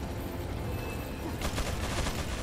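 Rapid Gatling gun fire in the video game Resident Evil 4 bursts in partway through as a dense, steady rattle of shots over a low rumbling game background.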